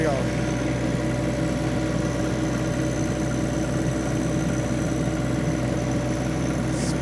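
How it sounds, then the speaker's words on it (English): A tractor engine running steadily while the machine drives across an ice rink, a constant close drone with no pauses. "I got the tractor on the ice"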